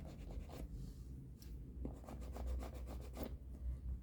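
Marking leather for a bag flap gives close, quiet rubbing and scratching strokes in an irregular rhythm, with a few sharper scrapes.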